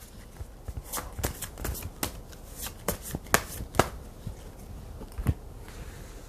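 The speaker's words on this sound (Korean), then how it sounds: "그러면 이제 조언 카드 뽑아보도록 하겠습니다" A deck of tarot cards is shuffled by hand before an advice card is drawn, with a run of crisp, close riffling snaps and flutters at an uneven rhythm and no talking.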